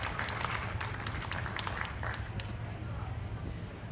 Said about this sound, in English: Let's give all these individuals a big round of applause for the talent they showed us out here today